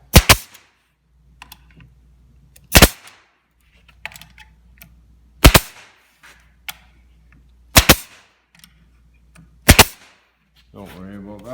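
A staple gun firing into the side of a cabinet during assembly, about five sharp, loud snaps spaced a couple of seconds apart, close by with quiet pauses between them.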